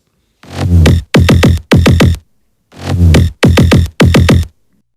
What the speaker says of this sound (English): Together the basses sound like this.